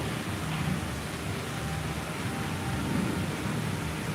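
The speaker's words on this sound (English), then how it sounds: "And you can hear the thunder and the lightning." Steady heavy rain hisses and roars without letup at Disney Springs, with a low rumble of distant thunder blended into the wash.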